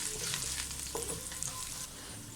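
Whole spices like cloves sautéing in ghee for Malabar ghee rice, a soft, steady frying crackle with light stirring scrapes of the spoon, fairly quiet and without speech.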